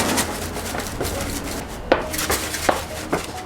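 A seasoning rub shaken from a container onto spare ribs, a steady granular rattle with a few sharper knocks of the shaker, close and alone with no talk.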